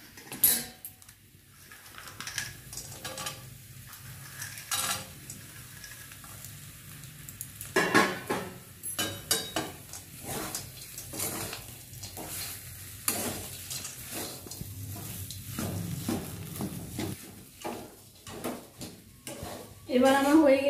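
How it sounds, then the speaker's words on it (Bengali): Spiced singara filling being mixed in a pan, with irregular scraping, clinking stirs and soft sizzling scattered across the stretch, some sharper metallic knocks standing out, under occasional quiet talk. "ভালো করে মশলাটা মিক্স করে দিতে হবে"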